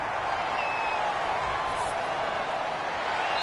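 A stadium crowd in the Madden 21 football video game gives off a dense, steady roar that holds at an even loudness throughout, building tension ahead of a big third down.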